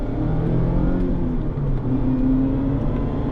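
A Mazda ND2 Miata MX-5 on a race track pulls hard from inside the cabin, the engine drone climbing steadily in pitch through the gear, loud and continuous.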